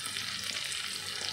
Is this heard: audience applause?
no